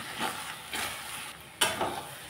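Cabbage curry being stirred in a pan, with a spoon scraping and turning the vegetables in soft repeated strokes over a light sizzle, close and without talk.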